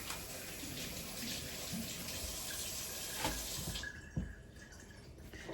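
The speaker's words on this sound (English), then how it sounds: "I'm going to wash my hands first thing" Hands are washed under a running kitchen tap, a steady quiet splash and hiss of water with a brief clunk near the end as the flow eases.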